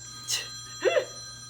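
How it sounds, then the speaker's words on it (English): A telephone rings twice in short bursts in a quiet room where someone is painting, and nobody speaks over it. "There's your phone again, Phil."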